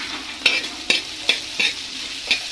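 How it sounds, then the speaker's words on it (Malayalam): A spoon or spatula stirs onions and green chillies in a pan, producing several distinct scraping strokes about every half second over a soft, steady sizzle, close and alone with no talk. "നന്നായിട്ടൊന്ന് വഴറ്റിയെടുക്കാം."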